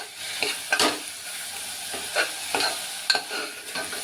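Spiced rice mixture sautéing in oil over low heat for masala bhat gives a soft steady sizzle, punctuated by several quick scraping stirs of a spoon against the pot, with no talk.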